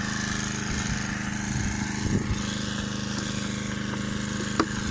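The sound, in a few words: Honda HR-21 lawn mower engine running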